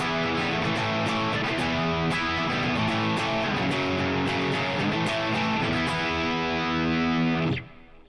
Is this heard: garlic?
no